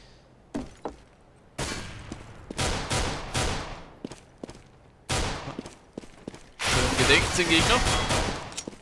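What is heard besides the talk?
gunfire in Counter-Strike video game match on de_cache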